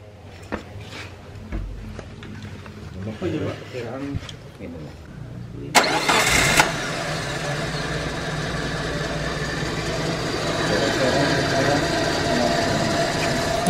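A 2004 Suzuki Karimun GX engine cranks and starts with a sudden loud burst, then settles into a steady idle with a slight rising drone, after quiet talk beforehand.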